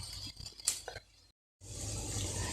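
Water pours into a cooking pan of sautéed ladyfingers (okra) with tomatoes, first as some brief clinks and splashes, then after a short silence as a steady, hissing rush of liquid.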